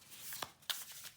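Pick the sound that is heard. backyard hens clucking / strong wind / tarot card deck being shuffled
tarot card deck being shuffled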